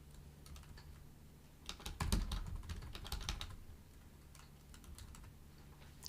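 Quick bursts of typing on a computer keyboard, close and crisp, with a dense flurry of keystrokes in the middle and sparser taps around it in a quiet room.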